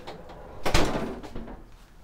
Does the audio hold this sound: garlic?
no